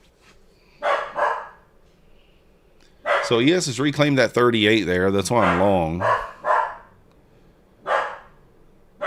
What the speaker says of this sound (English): stop all that barking